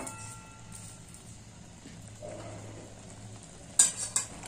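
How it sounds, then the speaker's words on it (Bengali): Carrot halwa with sugar is stirred in a pan, a low continuous sizzle and soft scraping heard close by, ending with a few sharper metallic clinks of the spoon against the pan. "আবারও এটা নাড়াচাড়া করে নেব"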